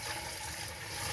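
Fresh water is poured into a pot of green bananas, giving a continuous close splashing and trickling rush with no pauses and no talk.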